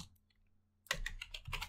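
Quick bursts of keystrokes on a computer keyboard while someone writes Python code, starting after a near-silent pause and continuing as a close, steady clatter.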